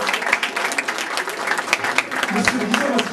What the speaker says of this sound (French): si vous pouvez l'applaudir pour cette magnifique projection